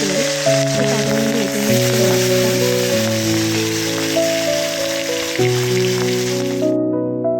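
Hilsa fish fries in oil in a kadai, giving a continuous loud sizzle and crackle beneath steady melodic music.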